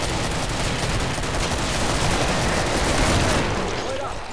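Sustained, loud machine gun fire in the co-op shooter Killing Floor, a continuous rattling burst filling the whole moment with no pause, voices mixed in.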